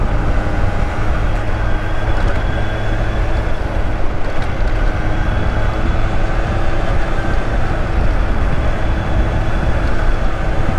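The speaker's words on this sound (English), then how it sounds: "Nice two-stroke, so it's definitely got some noise to it." A Yamaha Riva-Razz two-stroke moped engine runs loud and close, a continuous buzzing drone that holds steady throughout.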